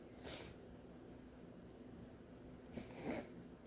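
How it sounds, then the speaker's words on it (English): A person blowing their nose twice, each a short, soft, breathy burst, the second longer, set against a very quiet room. "blow my nose."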